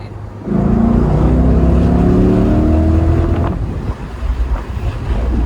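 A C8 Corvette accelerates hard, its engine note climbing steadily in pitch as it pulls, heard from inside the car over heavy wind rumble before the revs drop back.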